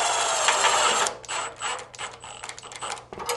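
A power driver runs self-tapping screws into the frame of a Safari window on a VW, whirring in a steady burst for about a second, then in several short on-off bursts.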